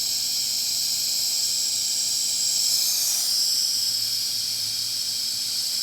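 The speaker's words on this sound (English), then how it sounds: "It leaks a little bit until pressure builds up underneath it." Air hisses steadily past a homemade rubber seal on a Case 1840 skid steer tire as it is pressurized, a constant soft airy leak that swells slightly midway, close and alone with no talk.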